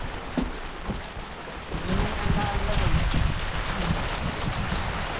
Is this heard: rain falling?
yes